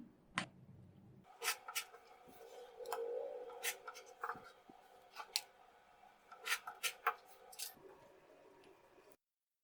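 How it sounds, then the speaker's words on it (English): Scissors trimming a foundation paper-pieced fabric block along a sewing line: a run of crisp, close snips and rustling paper, irregular in rhythm, quiet, with no talking. "Now I'll take this second cluster and cut on the common line first"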